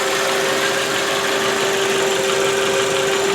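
A 2001 Nissan Altima GLE sedan engine runs at a steady idle, a close, even hum with a constant tonal drone and no voices over it.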